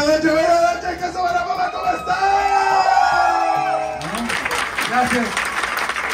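A comedy show audience applauds, cheers and whoops loudly as the performer takes the stage, with a dense burst of clapping and shouting and a voice talking over the crowd.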